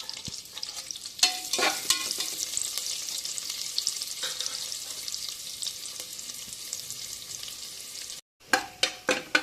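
Chopped onion sizzling in hot oil in a pan with fennel seeds, cloves and cardamom for a vegetable biryani, a steady close frying hiss broken by stirring scrapes and a brief pause near the end.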